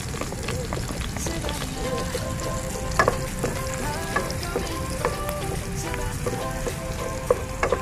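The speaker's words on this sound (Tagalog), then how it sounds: "Yun, magigisa na po siya ng bawang sibuyas." Garlic and onion sautéing in a pan, a dense steady sizzle and crackle with scattered sharp clinks of a utensil against the pan, close, with a voice talking faintly underneath at times.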